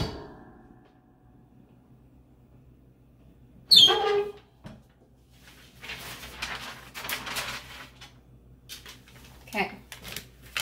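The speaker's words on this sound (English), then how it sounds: "I'm sorry my heat press is squeaky" A squeaky heat press used for sublimation printing opens or closes with a sharp creak, followed by scattered rustling and handling sounds in a quiet room.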